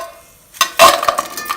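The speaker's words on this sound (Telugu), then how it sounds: "ఒక మందపాటి గిన్నెలో ఈ బెల్లం వేసుకొని" Jaggery dropped into a thick-bottomed pot lands with a quick knock followed by a rattling clatter of lumps against the metal, short and close, in an otherwise quiet kitchen.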